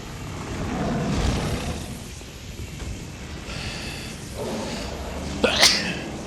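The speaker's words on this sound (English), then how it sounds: "It was literally the worst time to get the sneezes." A sneeze rings out near the end over steady background noise from the Dark Souls 2 game.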